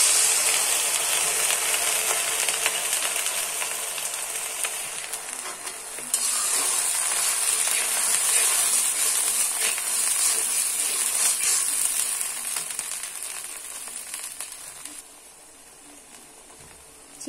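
Chopped onion frying and being stirred in hot mustard oil for a Bangladeshi pumpkin-and-prawn dish, a loud steady sizzle close up that fades near the end, with no talking.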